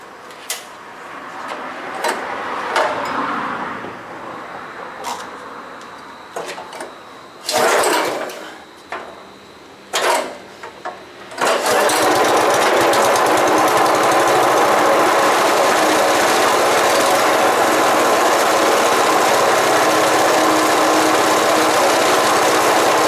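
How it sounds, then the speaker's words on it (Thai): A Honda GX160 small engine is pulled over with a few separate rattling starter tugs, then catches and runs at a loud steady drone close by for the second half. "เราลองติดเครื่องฟังเสียงก่อนนะครับ"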